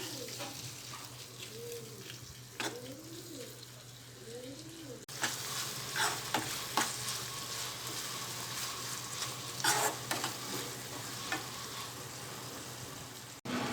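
Tomato pieces simmering in a pan on a low flame for a brinjal and drumstick curry, giving a steady close sizzle and bubbling throughout, with a soft stir or clatter near the start and a bird chirping faintly early on.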